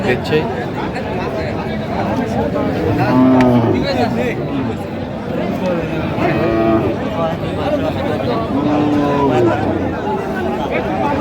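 Cows moo repeatedly at a busy cattle market in Noakhali, Bangladesh, several drawn-out calls at moderate distance rising over constant crowd chatter and close conversation.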